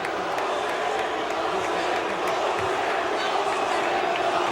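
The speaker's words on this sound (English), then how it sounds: "And the crowd does not like it at all." A large crowd at a 1995 UFC event boos steadily throughout, a dense wash of jeering voices with no pauses.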